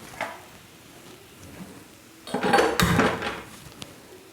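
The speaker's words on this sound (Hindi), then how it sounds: "और एक तवा रख देंगे हम गैस पर गरम होने के लिए।" An iron tawa griddle is set down on a gas stove in a home kitchen, a loud metallic clatter and scrape in a burst of about a second and a half, after a few faint clinks in otherwise quiet surroundings.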